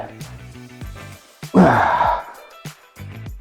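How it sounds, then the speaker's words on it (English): Heavy exertion grunt and forceful breathing during a barbell deadlift set, one loud strained burst in the middle framed by shorter clipped breaths and softer noises before and after. "making noises, grunting, breathing heavy, that's okay"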